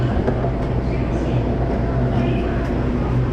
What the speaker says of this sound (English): This is the right train.